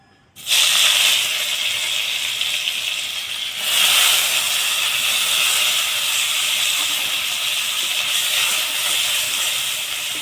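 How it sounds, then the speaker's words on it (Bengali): Paneer frying in oil in a kadai sets off a sudden loud, steady sizzling hiss that starts abruptly and holds strong and close, swelling slightly partway through. "এই কড়াইতেই তেল দিয়ে দিব, পনির ভেজে নিব।"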